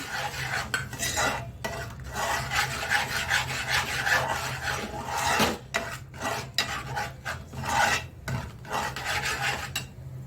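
A spoon scrapes and stirs a gram flour (besan) mixture in a pan for kadhi, giving steady rasping, rubbing strokes in an uneven rhythm with brief pauses, close and fairly loud, with no talking.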